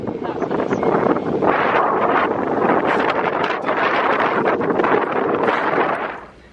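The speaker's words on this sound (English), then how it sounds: "It's windy as fuck." Strong wind at Manly beach buffets the microphone in a continuous loud roar with gusty surges, dropping away abruptly at the end.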